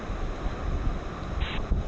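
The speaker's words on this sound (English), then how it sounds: "the wind coming off the bottom of that waterfall is just next level" Steady, gusting wind roars off the base of a waterfall in Bali, a dense close rush of air and spray buffeting the microphone with no talking.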